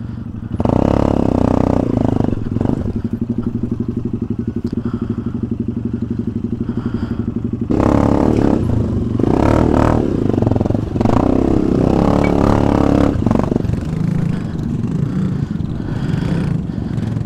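A low-slung motorcycle engine drones and revs while riding over a steep, rocky mountain road under construction between Tarlac and Zambales, with clattering knocks and thuds from the rough ground, loud and close throughout.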